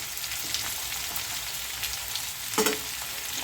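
Potatoes, drumsticks, half a tomato and slit green chillies frying in a pan, a quiet continuous sizzle with one brief clunk of stirring near the end, no voices.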